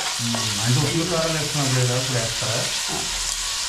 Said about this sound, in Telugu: ఉప్పు వేస్తే నీరంతా పోయి కొంచెం వేగిద్ది, బాగుంటుంది. ఉల్లిపాయ తొందరగా వేగిద్ది.